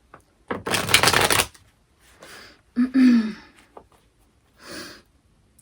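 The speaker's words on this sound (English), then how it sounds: "I want to give this a good shuffle before we start." A riffling burst of tarot cards being shuffled, then a softer second riffle and a few light taps and rustles, close by with quiet gaps.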